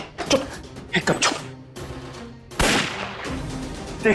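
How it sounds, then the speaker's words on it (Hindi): A gunshot rings out in a Hindi TV drama scene, a sharp loud crack followed by a noisy burst, set amid tense dialogue and sudden quiet. "देखा उसने, गोली चला रही है वो।"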